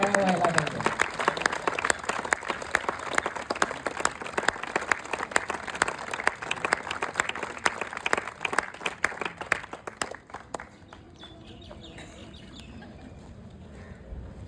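Audience applause for a couple being felicitated at a ceremony, strong sustained clapping from a crowd for about ten seconds before dying away to quiet room noise and a voice.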